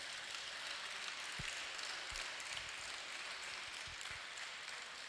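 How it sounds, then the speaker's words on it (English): Faint, distant applause from an audience at a Nigerian Bar Association dialogue event makes a steady hiss of clapping, with a few low thumps scattered underneath. "please give them an NBA round of applause"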